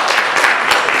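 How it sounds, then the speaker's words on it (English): Audience applause at the opening session of an Indonesian students roundtable conference, a steady wash of clapping from a crowd heard close and fairly loud, lasting only about a second with no talk over it. "Please be with me to give a big applause to the speaker."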